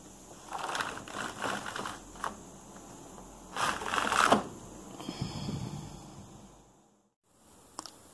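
Superba knitting machine carriage knitting a row of Norwegian double jacquard with one yarn colour, a quiet mechanical clatter and rattling swells in bursts, alone with a brief pause near the end.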